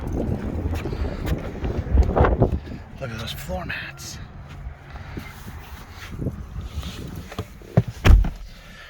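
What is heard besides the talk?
wind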